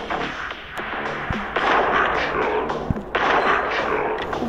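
Gunfire in a mobile shooting video game, loud sharp shots and bursts, with a couple of distinct cracks standing out over a busy layer of game noise.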